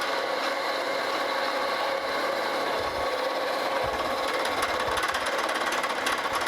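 A machine tool taking a 25-thousandths pass across a cast iron replacement casting, producing a continuous grinding, scraping cut with a faint rhythmic chatter, steady and close throughout.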